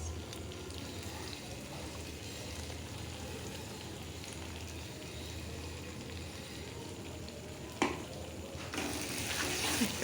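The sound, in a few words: sautéing mustard cashew fennel yogurt paste with salt, turmeric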